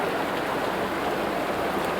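Steady heavy rain in Bangalore, a dense, continuous roar of falling water close by, unbroken for the whole stretch with no voices.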